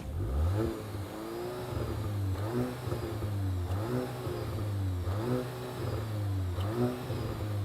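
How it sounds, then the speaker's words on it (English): A Volkswagen Golf GTI engine revs repeatedly against its soft limiter, rising and falling in a steady rhythm of throttle blips over a deep, continuous exhaust drone, close and loud. "No, I'll rev it."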